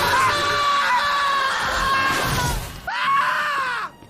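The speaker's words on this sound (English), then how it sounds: "You get the stock scream from two of them." A stock scream effect from the Ben 10 cartoon, heard twice as two loud, close, sustained high-pitched cries, the second shorter and following a brief pause.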